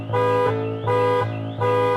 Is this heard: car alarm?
yes